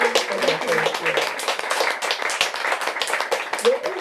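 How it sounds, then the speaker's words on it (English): An audience at a book event for the author of Magical/Realism claps in a brisk, uneven round of applause, with voices and cheering mixed in among the claps. "Can we have a round of applause?"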